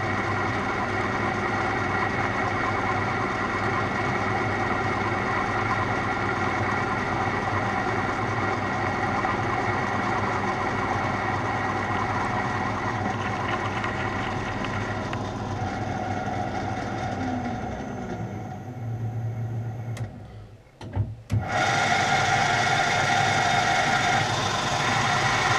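A lathe runs steadily while cutting the entry taper on a homemade tap, a continuous loud machine hum with a shift near the end, a brief stop and then a restart.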